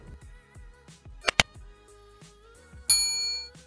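A bright notification bell dings twice in quick succession, then a longer shimmering chime rings out over a faint background bed.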